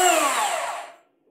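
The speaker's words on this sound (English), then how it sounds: "Let's check the break on this DeWalt." A DeWalt bandsaw motor winds down after being switched off from full speed, a whirring whine that falls in pitch and fades to silence within about a second.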